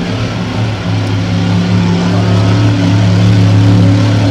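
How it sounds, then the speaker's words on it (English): A racing powerboat roars steadily down the back straight at Taree, its engine a loud, sustained low drone that swells slightly as it nears, with no talking. "as it sounds thundering up the main back straight."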